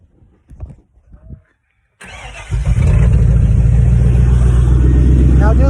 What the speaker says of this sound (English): Go ahead and fire that bitch up.